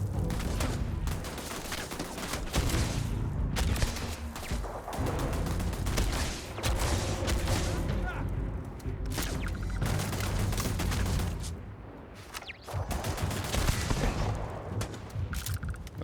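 Sustained gunfire from a space-combat shootout against defensive turrets in the video game Starfield, dense rapid bursts and mechanical clatter running continuously and loudly throughout, with a brief dip in intensity near the end.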